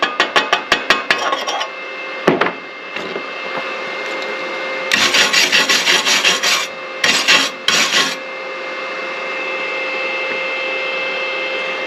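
Chipping hammer knocking slag off practice arc welds made with a Sefaspe ARC 200 PRO stick welder: quick bursts of sharp, close metallic taps and scraping, with a steady electrical hum underneath.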